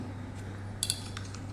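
Metal spool of a Daiwa spinning fishing reel handled by hand, giving a couple of brief close metallic clinks and rattles over a steady low hum, with no talking.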